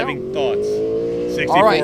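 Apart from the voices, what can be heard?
car engine revving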